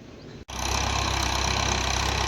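A tractor engine running in a farm field: quiet background, then a brief break before a steady, fairly close engine drone starts and continues evenly.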